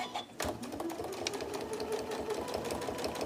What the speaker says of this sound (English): I'm going to do a top stitch around the edge.